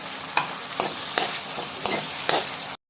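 Onions and tomatoes frying for chicken tikka masala are stirred in a pan under a loud, steady sizzle. Regular scraping strokes come about every half second, close up, and the sound cuts off abruptly at the end.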